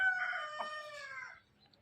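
A rooster crows once up close in a village yard among golden Egyptian hens, a loud, drawn-out harmonic call that trails off, followed by quiet background noise.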